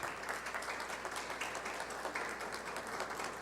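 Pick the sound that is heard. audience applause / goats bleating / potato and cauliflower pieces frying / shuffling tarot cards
audience applause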